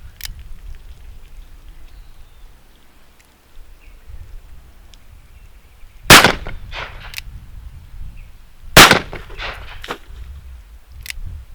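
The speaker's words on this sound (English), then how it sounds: "I'm going to pop a couple rounds in this and see if it's more violent than what the conical bullets were" Two loud, sharp gunshots from an 1851 Navy revolver firing outdoors, spaced a few seconds apart, each cracking out over quiet background rustle.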